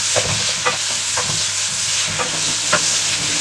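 Tomato sautéed with lemongrass and ginger in a pan for pork sinigang, giving a steady loud sizzle broken by repeated stirring scrapes roughly every half second, close and without voices.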